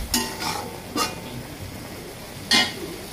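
Beef brain being stirred in a pan after cumin powder goes in, with a few distinct scraping strokes of a spoon against the pot over a faint background sizzle.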